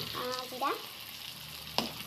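Onions with ginger-garlic paste fry quietly in a pan, a soft, steady sizzle broken by a sharp knock of the stirring spoon.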